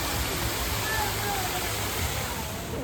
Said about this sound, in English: here's one of the entrances to the lazy river at the resort.